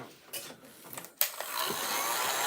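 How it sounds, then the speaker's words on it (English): Pixie Spray, a light tacky adhesive, is sprayed from a can onto stencil cutouts. A few short clicks are followed by a steady close hiss that continues to the end. "I just sprayed. It's called Pixie Spray."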